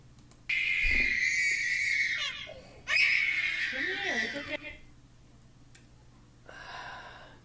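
Two long, piercing electronic jumpscare shrieks from the game FNAF Sister Location blare loudly, separated by a brief pause, then a shorter, fainter screech follows after a quiet gap.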